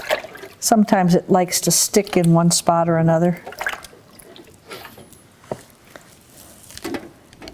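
Cool running water from a sink tap rinses emulsion off a metal photo transfer, a steady splashing wash heard mostly beneath a person talking, becoming clearer once the speech thins out.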